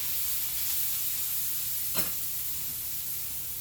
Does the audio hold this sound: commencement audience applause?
no